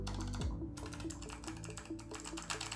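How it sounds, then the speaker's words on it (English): Rapid clacky keystrokes on a Razer Huntsman Elite mechanical keyboard with Razer Purple opto-mechanical switches tap out a steady, close-up typing rhythm, with no voices. "We have the Razer Huntsman Elite Mechanical Gaming Keyboard featuring the Razer Purple Opto Mechanical switches"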